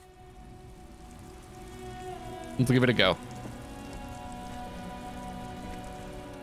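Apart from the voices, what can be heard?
rain in the video game Disco Elysium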